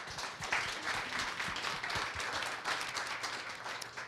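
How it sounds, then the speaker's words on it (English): Audience applause fills a town hall on mental health, a steady wash of many hands clapping for about four seconds with no pauses and no voices over it. "Give him a round of applause."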